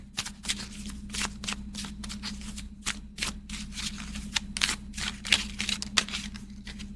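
Tarot cards shuffled and drawn in a steady run of crisp riffling snaps and slaps, close and fairly loud over a constant low hum, with no talking.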